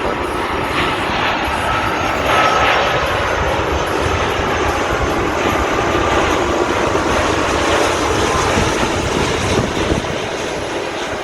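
A heavy airliner lands at Sydney Airport, its engines roaring loud and continuous throughout with a broad rumbling wash and no break.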